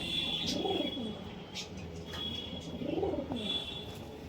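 Madras racing pigeons coo in two soft rolling bursts at close range, with a thin high chirp and faint background noise between them.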